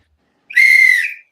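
A single sharp, shrill whistle blast lasting under a second, loud and close, in otherwise silent surroundings.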